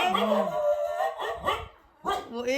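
A dog howls in long wavering cries mixed with short yips and barks, fairly close, with a brief pause between bursts.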